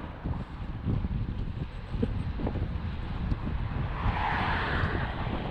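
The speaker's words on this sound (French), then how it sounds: "Entre les voitures, le vent," Wind buffeting the microphone while cycling on a road at speed, with traffic swelling past as a rising whoosh near the end; a continuous roar with no voices.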